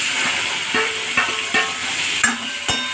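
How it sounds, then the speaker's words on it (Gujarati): Green chillies crackle and sizzle in hot oil in a pan, a steady frying hiss broken by a few sharp pops and stirring scrapes, close and fairly loud with no talking. "હવે આપણે એમાં મરચાં નાખીશું। મરચાં સાઈડ તતડી જાય એટલે એમાં ટામેટાં નાખીશું"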